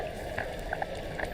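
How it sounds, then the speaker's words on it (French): Bubbles rise underwater during a freedive at Dahab, heard as a faint, steady liquid fizz with a few soft bubbly pops, muffled and continuous with no talking. "Les bulles."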